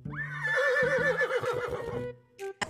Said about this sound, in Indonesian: Ini ada kuda terbang,